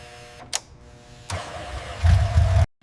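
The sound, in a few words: BMW R18 motorcycle engine cranking, then idling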